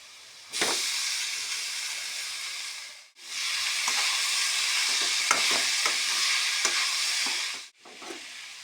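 Soaked thick poha stirred into a hot frying pan, a loud steady sizzle and hiss with scraping strokes of the spatula, broken by two brief pauses, close with no talk.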